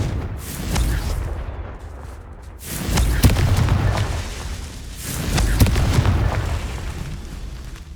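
Confringo spell blasts in Hogwarts Legacy: rumbling explosions with sharp cracks swelling around three and again near five and a half seconds over continuous game ambience, loud and without speech.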